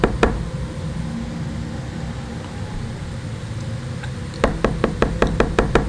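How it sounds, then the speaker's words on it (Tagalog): Fingernails knock against a wall at night: one tap near the start, then a quick repeated series of sharp, light clicks toward the end, heard alone over a quiet hum. "nagising ako sa tunog ng mga kuko. Kumakatok,"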